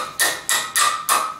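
A hammer drives an inch spacer into a tow bar adapter for a 1-inch bumper mount kit, landing four close, sharp metallic blows at an even, steady rhythm.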